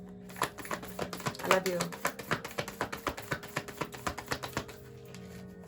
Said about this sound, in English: All right, stop shuffling.